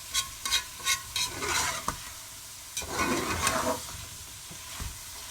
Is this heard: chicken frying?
yes